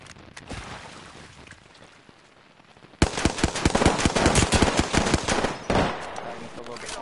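Video game gunfire in a battle royale match opens with scattered distant shots, then erupts into loud rapid automatic bursts that hammer on for several seconds before easing slightly.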